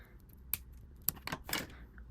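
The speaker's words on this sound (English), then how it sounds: "I'm gonna pull out scissors to cut the little strings off" Scissors snip little strings off a small kandi bracelet, a few sharp close clicks and short rustling snips in an otherwise quiet room.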